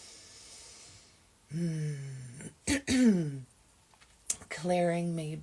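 Throat clearing and coughing during a group sound-healing chant session. A few sharp, close rasps and coughs break between soft hummed vocal tones.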